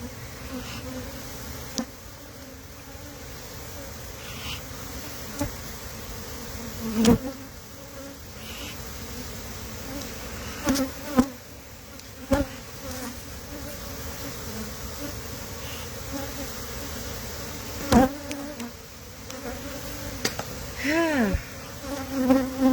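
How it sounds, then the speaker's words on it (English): Honey bees buzzing steadily as they disperse from an opened hive, a low continuous drone with occasional louder passes of single bees close by, no talk. "I'm just watching the bees disperse for a second while I'm waiting on the mite strips."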